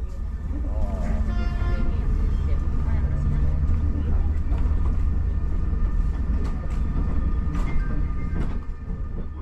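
An Alstom twin-unit train runs along rails with a steady, loud rumble and a continuous rolling roar, with a talking voice faintly mixed in.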